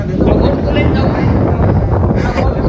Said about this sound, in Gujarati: ઠંડો ઠંડો પવન ને એવું આવે ને ભાઈ